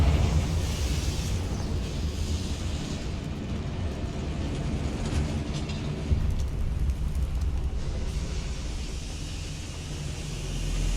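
Confringo fire spell blast in Hogwarts Legacy, a loud, sustained roaring burst with deep rumble that fills the whole stretch, swelling slightly near the end.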